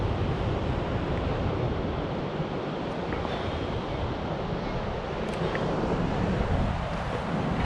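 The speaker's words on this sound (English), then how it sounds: "Tide's coming in." Ocean waves rolling in at a beach as the tide comes in, a steady broadband wash of surf blended with wind noise across the microphone, continuous and fairly loud with no talking.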